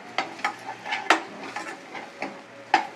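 Onions with turmeric stirred in a pan for misal, a spoon scraping and tapping against the metal in short, irregular strokes over a faint background sizzle, close and moderately quiet.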